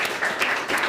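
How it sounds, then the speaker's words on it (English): Audience applause for Tina after a talk on a human-centered, women-informed approach to AI, a steady wash of many hands clapping at moderate volume with no break. "I think one more round of applause definitely for Tina"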